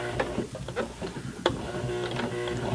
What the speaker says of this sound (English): I'll turn the hand wheel, just barely press on the foot to help it along.